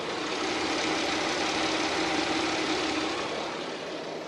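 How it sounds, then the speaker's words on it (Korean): A Kia K9's 3.8 GDI petrol engine idles steadily with a broad, even hum, heard close up under an open hood and without any voices. "엔진 소음 먼저 들려드리면은"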